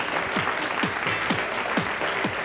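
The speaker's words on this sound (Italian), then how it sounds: "Li accogliamo con un applauso." A crowd applauds to welcome the hairstylists at the Miss e Mister Graticolato Romano 2005 pageant, a steady, dense wash of clapping across the whole stretch, with faint repeated chirping sounds riding on top.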